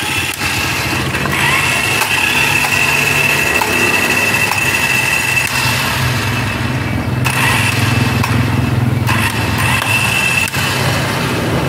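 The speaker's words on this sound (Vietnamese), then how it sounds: "Mà động cơ này á là động cơ than nguyên khối nè" A 24V carbon-brush motor with solid carbon brushes runs a homemade wood saw machine. It gives a loud, steady whirring hum that wavers slightly in intensity, with no talk.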